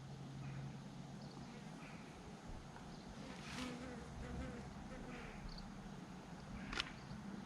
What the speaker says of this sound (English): There's that wasp again.